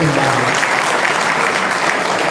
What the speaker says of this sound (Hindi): पूरा सदन दोनों हाथ उठाए और तालियां बजाते हैं